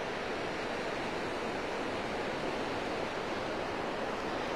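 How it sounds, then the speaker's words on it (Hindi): Fast, swollen river water of the Lancang in Tibet rushing past near salt terraces, a dense steady roar of turbulent flow throughout with no voices. "ये तो दरियाए लांछांग है, बहुत तेज है ना पानी"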